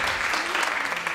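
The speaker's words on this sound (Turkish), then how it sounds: "Hep beraber alkışlıyoruz." A TV show studio audience applauds in a steady, dense wash of clapping, loud and close, filling the whole moment without a break.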